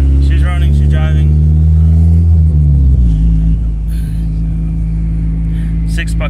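A Honda Accord engine runs after a clutch replacement, giving a loud, close, steady rumble that settles lower partway through, while a person talks over it.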